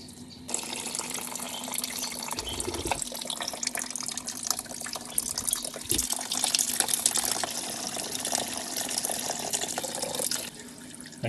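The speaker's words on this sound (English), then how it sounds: "if we just loosen the radiator cap, that'll release the vacuum and water will come out quicker" Coolant drains from the radiator of a KN/KQ Ford Laser or BJ Mazda 323 after the cap is loosened, a steady close splashing pour of liquid with a brief gurgle and clunks partway through.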